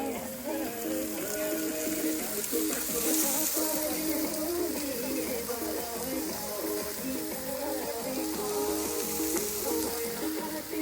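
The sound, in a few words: meat cooking in a pan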